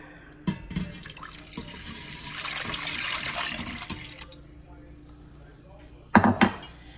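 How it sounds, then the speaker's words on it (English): About four cups of water pour steadily into a metal cooking pot for a few seconds, framed by clanks and knocks of cookware before and after. "I'm going to use 4 cups of regular water. I'm going to add that into my pot."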